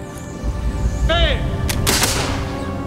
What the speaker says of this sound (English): this is all with cannonball and musket shot whizzing past his head